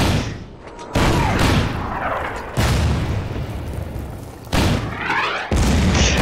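Artillery fire in the WWII strategy video game Order of Battle sounds as a series of four or five heavy, close booms, each a sharp blast followed by a rumbling tail.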